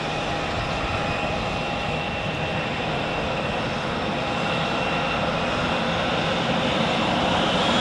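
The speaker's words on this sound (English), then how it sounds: "the Embraer to Oslo is lining up on runway 16" An Embraer jet lines up on runway 16 at Zurich Airport, its engines giving a loud, steady, unbroken roar that holds evenly from start to finish with no voices.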